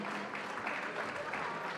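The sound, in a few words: audience applause for award winners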